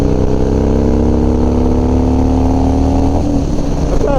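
Harley Dyna motorcycle accelerating out of a corner, a loud close engine drone that holds steady and then rises as the throttle opens, with wind rush over it.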